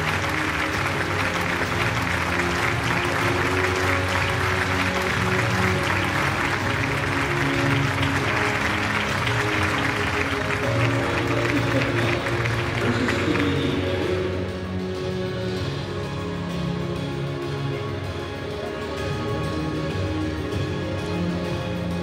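An audience applauds at a Kannada film event as an actress is welcomed, with sustained dense clapping filling the room for about fourteen seconds before thinning into quieter crowd murmur under a background music bed.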